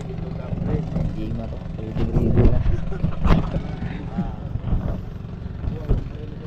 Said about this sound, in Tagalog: Standby lang kami dito, papaandar pa na makina